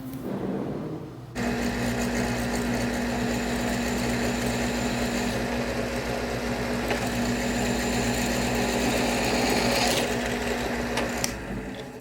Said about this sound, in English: So when I'm doing the drilling in steel, I make sure I keep the RPMs fairly low.